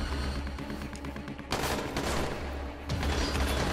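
Sustained assault rifle fire in the zombie game Dying Light, a dense continuous spray of rapid shots that swells louder midway and keeps going to the end, with game ambience underneath.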